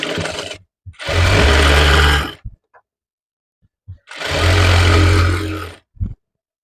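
A sewing machine stitches a prince cut blouse in two loud, sustained runs of rapid whirring, each lasting about a second and a half. Brief handling clicks come between the runs, and the runs are separated by near silence.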